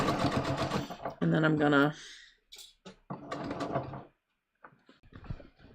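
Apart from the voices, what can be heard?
sewing machine sewing jeans seam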